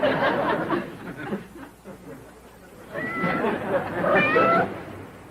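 A cat in a cold, wet, rundown cabin with no electricity meows a few times, faint at first and then clearer, under muffled room noise and some chatter.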